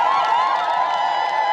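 A crowd outdoors at a new health centre inauguration in Lupembe village cheers and applauds, a loud, continuous wash of voices and whoops in a short burst.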